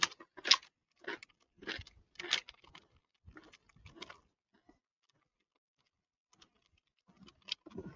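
Spicy crayfish flavored Lay's potato chips from China being eaten, with close, crisp crunches in irregular bursts, a quiet pause in the middle, then a few more bites.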